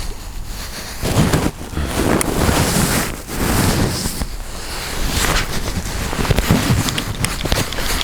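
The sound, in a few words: fast-flowing river water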